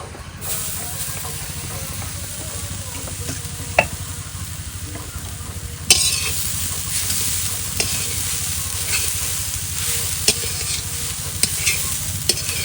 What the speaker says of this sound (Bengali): এবার নারকেলটা ভেজে নেবো